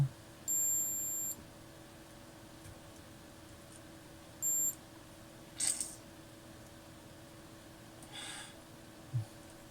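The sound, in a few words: device beeping to show current passes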